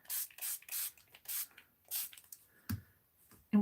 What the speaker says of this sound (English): I'm going to spray. Make it really wet.